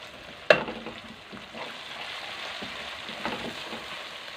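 Ginger garlic paste fries in hot oil with cumin seeds and dried red chilies, a soft continuous sizzle with a sharp clatter as it is stirred near the start, then occasional scrapes.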